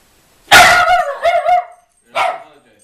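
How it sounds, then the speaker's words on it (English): A dog barks close and loud at kids passing by, giving a quick burst of sharp, yelping barks and then a single final bark after a short pause. "that was my dog doing her job"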